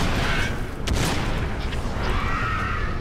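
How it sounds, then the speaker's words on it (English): Enemy gunfire in the Crysis video game, a dense burst of shots crackling loudly around the player, with one sharper blast near the one-second mark over steady battle noise. "Oh, they're shooting at me."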